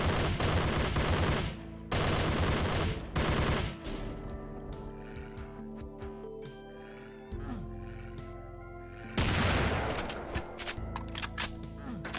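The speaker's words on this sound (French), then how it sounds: "Oh, le sniping au fusil à pompe" Shotgun blasts in the video game Doom II, loud bursts of gunfire in close repeated clusters with short gaps, over a bed of game music and ambient effects.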